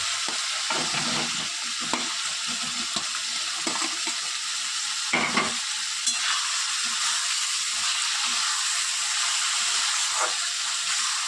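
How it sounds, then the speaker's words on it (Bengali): Potatoes and pointed gourd fry in a cooked-down spice paste for dhokar dalna, a constant bright sizzle and hiss with scraping stir strokes and a few louder clunks of the spatula. "এবার আমি আলু পটলটার মধ্যে দিয়ে দেবো"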